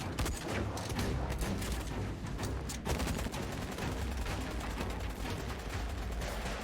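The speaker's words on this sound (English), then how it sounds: "It's an MG42!" Sustained MG42 machine gun fire during a firefight in Syberia The World Before, a dense continuous rattle of rapid bursts, loud and close, with no voices over it.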